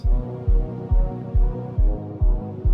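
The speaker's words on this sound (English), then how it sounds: "Very low sine wave here." A very low sine bass from a Falcon synthesizer throbs in steady pulses about every half second in a psytrance production, loud and deep under a humming mix, with no voices.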